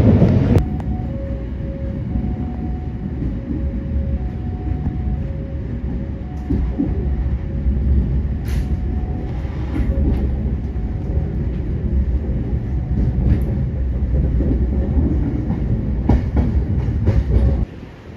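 KA Gumarang business-class train running on rails, a steady loud rumble with rhythmic clickety-clack and faint intermittent tonal whines, heard continuously from inside the carriage.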